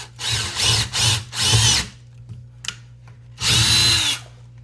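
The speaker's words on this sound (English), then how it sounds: "I'm just going to drill straight into that hole." A cordless power drill whirs in several short, loud bursts, stopping and starting as it bores straight into a wooden cabinet to install knobs and drawer pulls.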